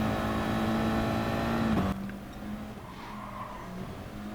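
A race car in Gran Turismo Sport holds a steady engine drone and a brief tire squeal, then the engine drops to a lower, quieter note as it carries on through the lap.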